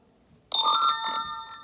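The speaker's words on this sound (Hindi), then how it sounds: "अब हम इसको नोटिफिकेशन ट्रिगर करते हैं।" A push notification chime sounds on a phone running a React Native app, a bright multi-tone electronic ring that starts abruptly after silence and rings on, clear and close.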